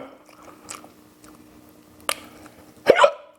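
Hiccups sound during a meal of spicy papaya salad and grilled chicken frames, mixed with chewing and crunching, ending in one sharp, loud close hiccup.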